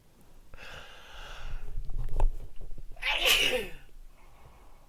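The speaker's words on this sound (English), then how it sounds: "I felt a sneeze coming on then" A single loud human sneeze, preceded by a brief breathy build-up and inhale, then a sharp explosive burst, close to the microphone.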